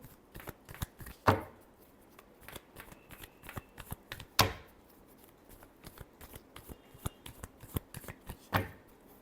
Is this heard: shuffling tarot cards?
yes